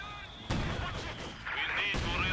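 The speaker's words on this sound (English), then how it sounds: "Good hit there from the Panzer Abwehrkanone." A German Pak anti-tank gun (Panzerabwehrkanone) fires and scores a hit in a Company of Heroes 2 1v1 match, giving two sharp, booming blasts a second and a half apart over faint battlefield ambience.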